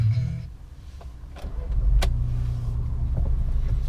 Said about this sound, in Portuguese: Vamos dar a partida aqui no motor turbo.